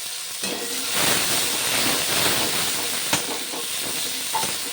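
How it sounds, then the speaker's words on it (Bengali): Chopped onion frying in mustard oil with black cumin seeds, a steady close hiss and sizzle with occasional sharper pops and stirring clicks, no talking. "পেঁয়াজটা একটু হালকা ভেজে নেব।"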